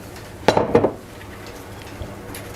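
Sponge cake batter mixed with flour and baking powder in a bowl, two quick clattering strokes of the utensil against the bowl, then near quiet.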